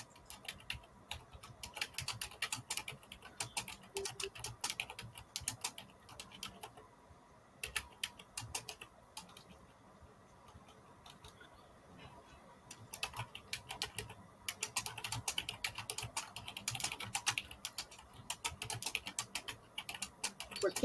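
Rapid, dense keyboard typing at close range, continuous clicking with a lull in the middle before the fast keystrokes resume, done while listing items for resale.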